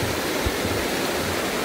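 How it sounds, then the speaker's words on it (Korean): A mountain valley stream in Gucheondong Valley on Deogyusan, swollen by monsoon rain, rushes loudly in a steady, dense roar of water that fills the whole stretch without pause. "물소리가 너무 시끄러울 정도로 엄청나게 수량이 자랑을 하고 있습니다."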